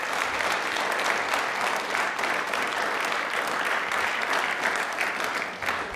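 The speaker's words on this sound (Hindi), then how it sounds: "एक बार तालियां जोरदार हो जाएं प्लीज।" Studio audience at a televised quiz show claps loudly and steadily, a dense, even wash of many hands that holds for the full six seconds before easing slightly at the very end.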